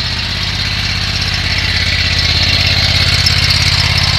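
A Predator small gasoline engine runs steadily on a Vulcan gasifier system in a combined wind and biomass setup, giving a loud, close, even idle hum with a constant rapid pulse and no breaks.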